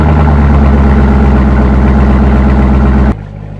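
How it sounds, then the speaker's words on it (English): A classic GM V8 engine runs loud and close on a cold start, a deep steady rumbling idle that cuts off abruptly near the end, leaving a faint lower hum. "there's just nothing like the sound of a cold start on classic GM V8s"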